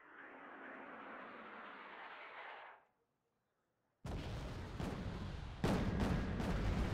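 Bombs explode on infantry in the Wargame: Red Dragon video game. A long rumbling roar fades to silence, then a loud burst of blasts erupts, with sharp repeated impacts and growing intensity toward the end.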